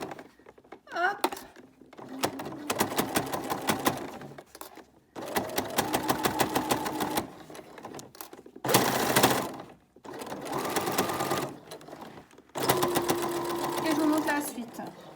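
Domestic sewing machine stitching through thick layers of a handmade bag with ruffles and gathers, running in several steady bursts separated by short pauses, close and fairly loud, with soft speech in places.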